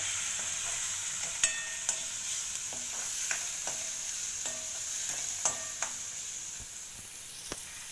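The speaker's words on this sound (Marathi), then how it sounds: "चमचा लाल मिरची पावडर टाकते परत छान छानपैकी हे परतून घ्यायचं" Spices with red chili powder sautéed in a pan for a ridge gourd and chana dal dish, a soft steady sizzle with intermittent scraping stirs and light utensil clicks.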